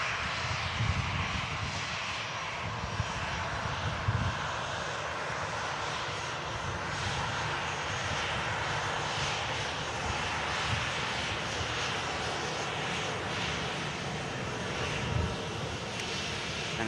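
An Atlas Air Boeing 747 jet departs with its engines roaring, a loud, steady, broad rumble that holds for the full stretch with no speech.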